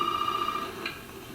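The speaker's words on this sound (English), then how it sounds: "Come on, phone, ring." A telephone rings inside the derelict house in Resident Evil 7, a steady electronic trill sounding alone and fairly quiet for a brief moment with no talk.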